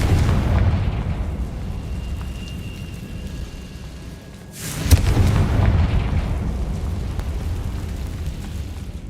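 A Confringo explosive spell cast in a video game, a loud boom bursting out about halfway through a steady rumbling background, then settling into a sustained roar.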